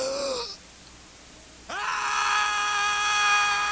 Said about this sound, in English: I'll scream out with all my life.